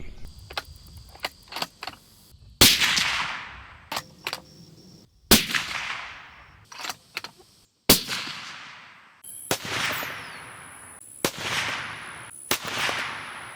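A 7mm-08 rifle fires Federal 140-grain Barnes TSX rounds into ballistics gel, with several sharp, loud reports spaced a few seconds apart that ring out and decay, separated by small mechanical clicks.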